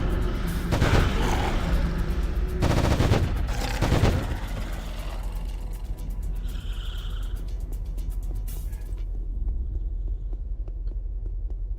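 Two guns firing in the sci-fi online game Anarchy Online: several loud bursts of rapid shots in quick succession, followed by quieter mechanical clicks and then near silence.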